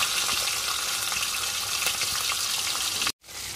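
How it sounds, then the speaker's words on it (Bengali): Fish heads fry in hot oil in a heated pan for a fish-head moong dal, giving a steady, busy sizzle with faint crackles that cuts off abruptly near the end. "এর মধ্যে মাছের মাথাগুলো এক একটা করে ছেড়ে দিতে হবে"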